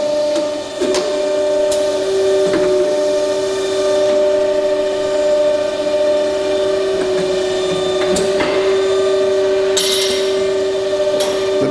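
A Li Chou facing and centering machine from Taiwan, with two heads that trim workpiece ends, runs with a steady loud mechanical drone and tonal hum, broken by occasional clanks and knocks, and no talking.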